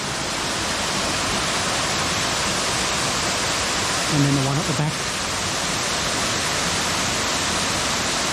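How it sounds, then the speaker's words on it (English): A steady broadband roar of a waterfall on a twilight hike in Lamington National Park, loud and constant, with a brief spoken phrase partway through. "and then you come to this waterfall"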